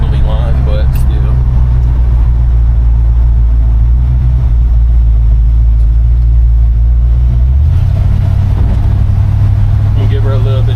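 A 1952 Chevy 3100 pickup engine drones steadily while driving, a loud low rumble that shifts to a higher pitch partway through as it gets more throttle, with cabin and road noise throughout.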